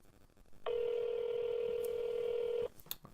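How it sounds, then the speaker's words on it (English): A steady electronic phone tone sounds for about two seconds during an outgoing call, cutting off cleanly, with faint voices and rustling around it. "It's ringing."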